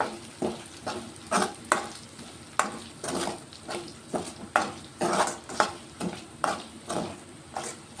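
Chicken being stirred with coriander powder and chicken masala for a spicy chicken fry: a spoon scrapes the pan in a steady, repeated rhythm over a low sizzle, close by and with no talking.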